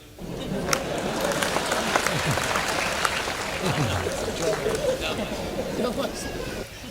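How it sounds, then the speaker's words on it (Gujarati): A crowd claps loudly and steadily at a Gujarati dayro folk performance, lively and close, with chatter and a voice running underneath the applause for several seconds. "સમજાય તો જ તાળી પાડજો"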